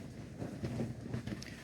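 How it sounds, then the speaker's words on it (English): Strong gusts buffet the microphone outdoors up on a roof under repair, a continuous low rumbling roar with slight surges and no voices. "So it's windy as buggery still."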